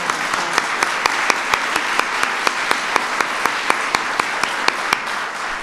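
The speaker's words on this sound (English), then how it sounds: "Now let's give Michelle a round of applause." Sustained audience applause for Michelle at a First Lady event at the National Science Foundation, with a broad steady wash of many hands and one clear clapper beating a regular, sharp rhythm close by.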